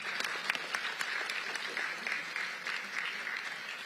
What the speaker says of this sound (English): Let's give them all a big round of applause for their support.